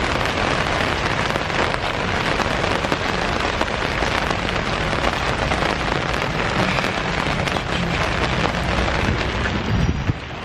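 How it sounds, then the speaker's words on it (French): Heavy rain pours steadily in a city street in Athens, a dense, continuous hiss of drops drumming on surfaces, loud and close throughout with no voices. "Tu peux rien faire avec cette pluie."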